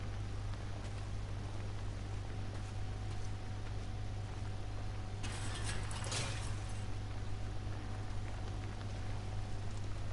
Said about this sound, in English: Looks like it's gonna rain.